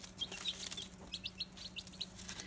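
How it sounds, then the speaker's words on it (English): Newly hatched chicks in a brooder box peep in a quick series of high, thin chirps, fairly close and soft over a faint steady hum. "It's got some chicks in it already. These chicks hatched just last night."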